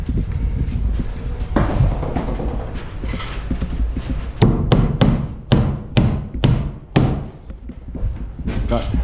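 A hammer tacks a framed wall section into place during solo house building, a series of sharp, loud blows, first scattered and then a rapid cluster of strikes, with background talk and knocking between hits.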